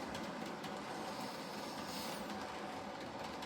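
Model train running around the main loop of a model railway layout, a steady close whirring rumble with faint rhythmic clicking of wheels over track, continuous and without pauses.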